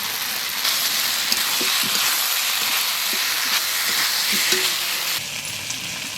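Potatoes frying in a pan over a village cooking fire, prepared by a Santali grandmother, give a steady broadband sizzle with faint stirring clinks, close and continuous throughout, with no talk.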